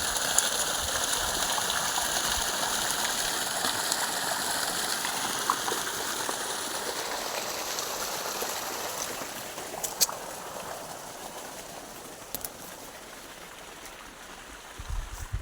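Continuous rushing of irrigation water flowing in a sugarcane field channel, steady and fairly close, gradually easing a little toward the end, with a few faint knocks.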